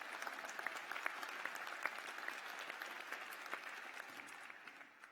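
Audience applause at a university graduation ceremony, a steady patter of many hands clapping at moderate distance, holding level for several seconds before tapering off slightly.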